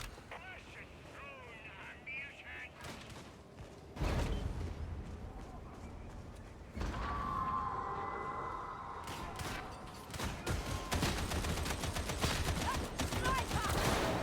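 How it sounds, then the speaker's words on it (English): Sniper fire in Warhammer 40,000: Darktide: several sharp, loud shots land among game ambience, with sudden surges around four and seven seconds. A busier cluster of cracks comes near the end. "That's a sniper."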